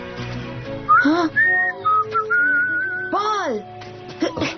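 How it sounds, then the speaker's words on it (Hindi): A person whistles a bright tune in an animated cartoon, with several sliding, rising and falling notes and sustained tones close to the listener, mixed with a voice and other sounds underneath. "मैंने आपकी सीटी सुनी"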